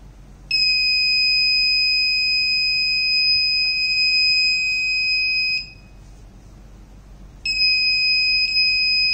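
A loud, steady high-pitched electronic buzzer on a substation monitoring system beeps continuously for about five seconds during a low-voltage fault, stops briefly, then starts again; no one speaks.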